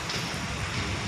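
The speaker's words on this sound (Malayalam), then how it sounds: "ചെറിയൊരു ചാറ്റലോട് കൂടി ഇന്ന് മഴ കിട്ടിയിരിക്കുകയാണ്." Light drizzle falling outdoors in Oman in front of a company building, a soft steady patter of fine raindrops on surfaces, continuous and fairly close for about a second.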